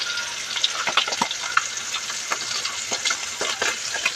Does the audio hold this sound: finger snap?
no